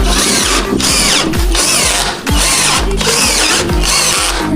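A power drill drives screws while a cat litter cabinet is assembled, loud and close, in repeated long whirring bursts with a short pause partway through and no talking.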